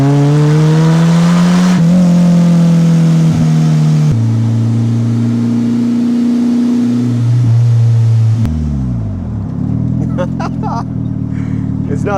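A custom four-seat, four-wheel Polaris Slingshot with a turbocharged engine drives hard, with loud sustained engine drone rising through gears and a sharp blow-off hiss near the end, close and continuous.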